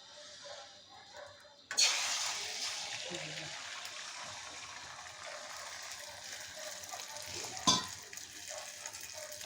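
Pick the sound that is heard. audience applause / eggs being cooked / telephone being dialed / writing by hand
eggs being cooked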